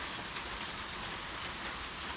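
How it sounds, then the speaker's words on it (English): Steady rain falling and pattering on surfaces, a dense continuous hiss with no talking. "as it's raining"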